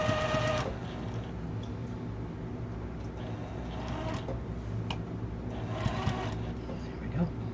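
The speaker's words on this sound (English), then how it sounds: "And we're gonna sew away." A sewing machine stitches a seam on a long wall organizer, a steady close mechanical whir running throughout with a few brief clicks and bumps along the way.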